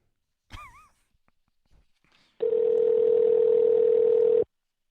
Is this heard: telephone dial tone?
yes